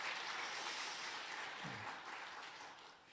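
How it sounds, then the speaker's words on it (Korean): Church congregation applauding together after a men's fellowship group sings a hymn at a Wednesday worship service, a steady wash of clapping that fades slightly toward the end. "우리 다 같이 박수로 격려하겠습니다"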